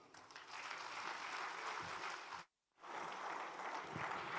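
An audience at a lecture with the Union Home Minister claps at the end of a speech, dense sustained applause that drops out briefly to silence and then resumes, heard from a distance and faint.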